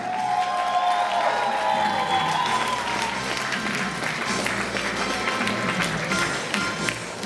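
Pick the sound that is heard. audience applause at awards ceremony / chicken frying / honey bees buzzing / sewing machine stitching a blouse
audience applause at awards ceremony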